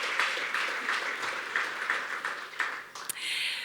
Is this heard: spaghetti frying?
no